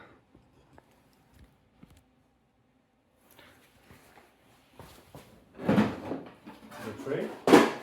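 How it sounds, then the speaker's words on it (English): A plastic tray slides out of a Frigidaire dehumidifier, model FFAD5033W1, with faint taps and then louder scraping, rattling clunks toward the end. "in order to disassemble it, you first need to"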